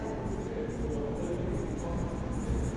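Steady scratching of writing on a board during a Grade 4 math lesson, a continuous faint scraping texture with a few brighter strokes and no talking over it.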